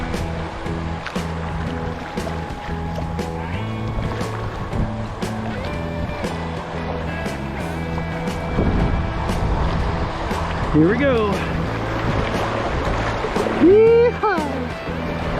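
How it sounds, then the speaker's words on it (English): White water rushes and splashes around a kayak on the Guadalupe River, a constant churning wash close by, while someone talks and gives an excited whoop over it. "Got a little bit of white water here."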